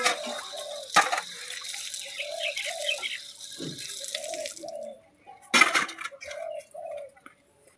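Items are scrubbed and rinsed in a bucket of water, with splashing and sloshing, sharp clatters and scrapes, and pigeons cooing softly nearby throughout.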